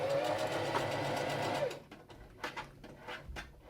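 A sewing machine runs a fast, steady stitching burst along a tote bag seam for about a second and a half, then stops, and a few soft clicks and handling knocks follow.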